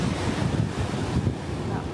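Steady wind buffets the microphone close up at a surf beach on Taiwan's east coast, a rough rushing noise with surf murmuring underneath.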